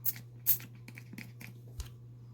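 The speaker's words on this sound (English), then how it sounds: "Let's spray her little curls." A spray bottle mists a soiled Cabbage Patch Kids doll's little curls in several quick, soft hissing bursts, two stronger at the start, over a steady low electrical hum.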